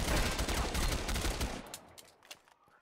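Sustained automatic gunfire in the video game Ghost Recon Phantoms, a rapid, dense burst that cuts off after about a second and a half, followed by a few scattered, quieter shots.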